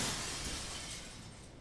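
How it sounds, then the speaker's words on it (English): A glass window smashes in the horror video game Death Mark, a loud bright burst of shattering glass that fades away over a second and a half, with no voices. "Smashes through the window and off into the night."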